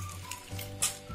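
Sugar syrup bubbles and sizzles in a pan, with soft crackles and a brief sharp hiss near the end; close and fairly quiet.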